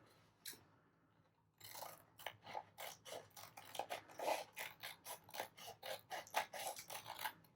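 Scissors trim a paper scrap in a quick run of crisp, close snips, about a dozen cuts in steady rhythm after a brief pause.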